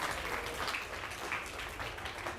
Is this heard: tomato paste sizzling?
no